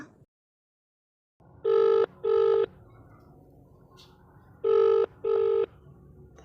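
Telephone tones as a number is dialed at home: two pairs of short, loud, steady beeps separated by a pause, over faint background hiss.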